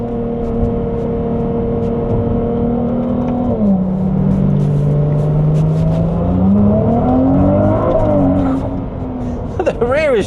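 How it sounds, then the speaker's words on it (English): A Ferrari 296 GTB on Italian mountain roads, its engine droning steadily from inside the cabin with the pitch dipping and rising as the revs change, a faint turbo hiss above it, and a brief sharp whoosh near the end. "So there's a nice hiss from the turbo."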